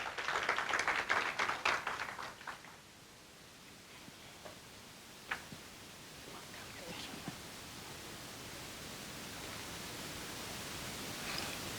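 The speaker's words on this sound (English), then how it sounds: "Can we please give her a round of applause?" An audience at an indigenous language seminar claps for a speaker. The brief, moderately loud applause dies away after a couple of seconds into a quiet, faintly rustling room.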